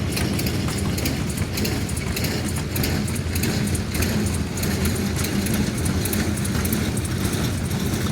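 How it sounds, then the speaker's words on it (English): Antique hit-and-miss engines, all made in Michigan, running in a tractor parade, a steady loud mechanical chugging with rapid rhythmic knocks over a low engine rumble, close by and continuous. "Here comes the family with a load of hit-and-miss engines."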